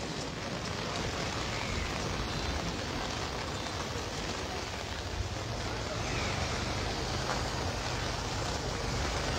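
Steady rain pours near the Khowai river in Habiganj, a dense, continuous wash of noise with no breaks, filling the scene evenly at moderate loudness.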